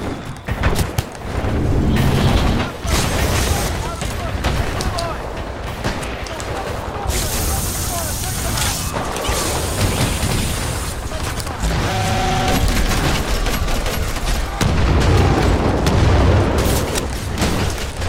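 Gunfire in the video game Titanfall 2, with bursts of shots and booming impacts packed together, loud and busy, and people talking throughout.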